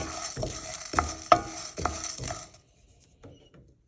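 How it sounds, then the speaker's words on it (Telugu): Coriander and cumin seeds rattle and scrape in a pan as a spoon stirs them, several sharp metallic clinks in a loose rhythm, then a quieter pause with faint sizzling. "two to three minutes fry చేసుకోవాలి"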